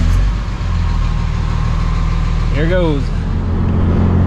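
A 5.9 Cummins diesel truck engine drones loud and steady inside the cab on a test drive, a deep continuous rumble with a brief voice rising over it partway through.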